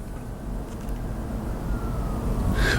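A distant siren drifts faintly beneath traffic rumble, its tone gliding downward, with a brighter burst of noise near the end.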